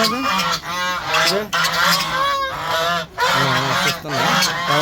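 Ducks on a rooftop quacking loudly and continuously close by, several harsh, nasal calls overlapping in quick succession with brief pauses, no talking.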